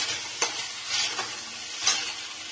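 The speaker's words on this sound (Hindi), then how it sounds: "टमाटर को आपको अच्छे से मैश करना है" Tomatoes are mashed in a frying masala pan, with a steady sizzle under a few soft, rhythmic scraping strokes close by, no speech.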